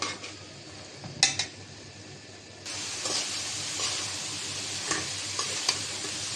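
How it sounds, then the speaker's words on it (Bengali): Curry of water taro, lentils and chicken bones is sautéed in a pan, giving a steady sizzle with spoon-and-pan scrapes and clinks, growing louder partway through, with no talking. "কষানো হয়ে এসেছে আর একটু কষানো হোক তারপর আমি ঝোল দিয়ে দিব"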